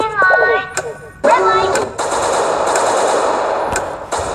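Rapid gunfire in a Squid Game style video game, a loud continuous burst of automatic shots with sharp cracks, heard after a brief spoken exclamation.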